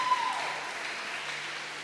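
A church congregation applauds in a dense, steady wash of clapping that slowly fades away, with no voices over it.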